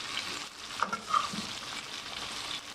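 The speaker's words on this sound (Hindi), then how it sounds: "यहाँ भिंडी को फ्राई कर रही हैं" Okra (bhindi) fries in hot ghee and is stirred, giving a steady soft sizzle with a few light scraping stirs, close and fairly quiet.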